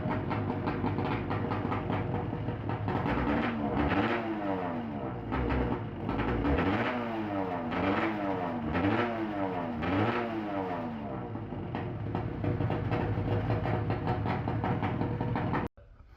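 A custom fuel-injected three-cylinder two-stroke project engine runs close by, idling roughly with a string of quick revving blips before it cuts off abruptly.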